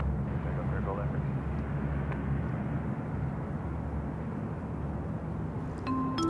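An airliner takes off from runway 34 left at Sydney Airport, a steady, heavy engine roar with deep rumble holding at a constant level throughout, with voices talking over it.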